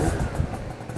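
A Yamaha BWS 50 scooter engine with Stage6 power parts warming up just after the choke is switched off: a loud, close, steady buzzing idle, with no voices.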